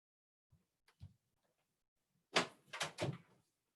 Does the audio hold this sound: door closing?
yes